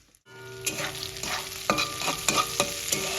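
Green beans fry in hot oil in a kadai for fried rice, giving a steady close sizzle broken by several sharp spatula scrapes and knocks as they are stirred; no one speaks.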